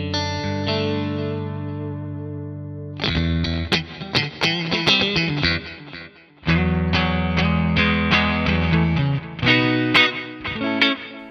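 Clean electric guitar through a NUX MG-50 Li amp on its Roland Jazz Clean model: a sustained ringing chord fades out, then bursts of strummed chords and single notes follow with short pauses, close and clear with a touch of shimmer.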